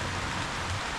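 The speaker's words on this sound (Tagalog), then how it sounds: "Oh, umuulan." Steady rain falls with a dense, even hiss, close by and continuous, with no voices.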